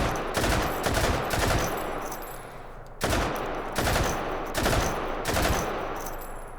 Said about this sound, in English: It's always fun just blasting with machine guns.